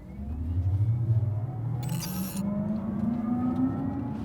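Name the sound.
Kia EV6 electric car driving sound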